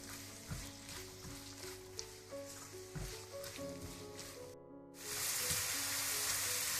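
Chopped onions sizzle and fry in a hot pan for chicken patties, a steady close crackle with occasional pops and stirring, swelling into a louder, brighter hiss near the end.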